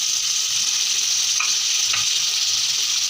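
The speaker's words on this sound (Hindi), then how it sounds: "अब मैं इसके अंदर ऐड करूँगी हमारे टमाटर और हरी मिर्च।" Tomatoes and green chillies are dropped into hot oil with already-fried garlic and ginger for a dhaba-style chana dal, giving a loud, continuous hiss with a couple of faint clinks.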